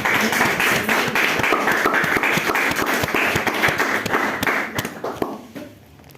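A church congregation claps in praise, a dense run of many hands beating together with a rough steady rhythm, loud and close, then thinning and fading out near the end.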